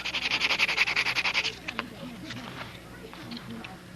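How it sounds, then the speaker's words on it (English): A bolt is worked in and out of the wing of a Brodak Cardinal control-line model. Rapid rhythmic rasping strokes come first, then quieter scraping and handling while someone talks. "I just want to work that screw back in and out a few times."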